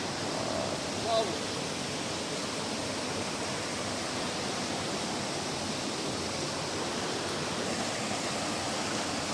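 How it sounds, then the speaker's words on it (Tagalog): Strong rushing water at Limay Tikip Falls, a steady broadband roar of the waterfall filling the whole stretch, loud and constant with no breaks. "Yan po mga idol, lakas po ng agos ng tubig."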